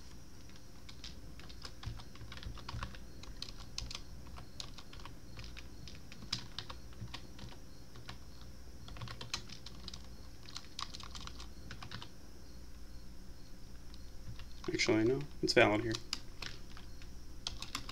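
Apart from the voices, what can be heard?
typing on a computer keyboard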